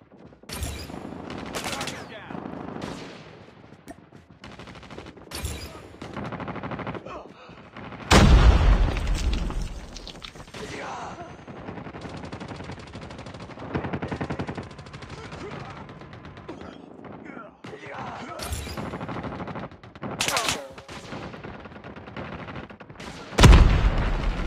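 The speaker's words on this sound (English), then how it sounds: "Friendly airstrike incoming." Gunfire and airstrike explosions in Call of Duty Mobile, with rapid bursts of shots and loud booming blasts that recur throughout, heaviest around the middle and near the end, under occasional game voice announcements.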